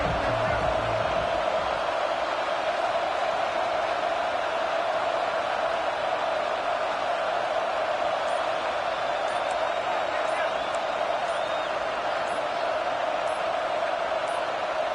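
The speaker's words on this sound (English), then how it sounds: "And with this place rocking, the crowd forces a false start." A college football stadium crowd roaring, a dense, steady wall of loud noise that holds without a break throughout.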